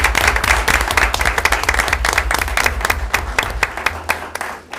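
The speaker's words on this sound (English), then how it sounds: "So how about a big round of applause?" A city council meeting audience claps warmly for a long-serving community member: loud, sustained applause with many distinct hand claps that carries on steadily and thins slightly at the very end.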